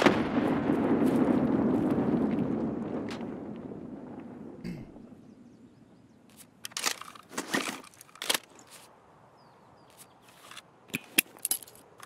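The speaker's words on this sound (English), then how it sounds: "we're throwing nades to push him out of there, or to possibly kill him" A grenade in Escape from Tarkov goes off with a heavy booming blast that rolls and fades, followed by scattered sharp cracks and shots in the distance.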